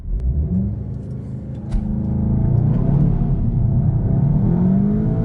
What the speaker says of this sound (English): Let's launch this vehicle and see what it is all about.